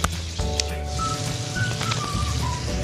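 Chicken for shawarma frying in a pan makes a dense, close crackling sizzle like heavy rain. A few faint whistly tones rise above it, and no one speaks.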